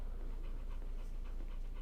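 Torgal, the wolf-like dog from the video game Final Fantasy 16, pants in a steady rhythmic loop, close and continuous at low volume with no talk over it.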